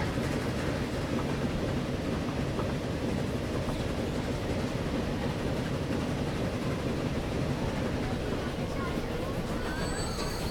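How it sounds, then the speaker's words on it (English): A steam train in a video game slowing as it comes into a station, heard as a dense, steady low rumble and rolling noise with a faint high squeal near the end, continuous and mid-distance. "here we are, we're coming into the station. Now let's slow it down."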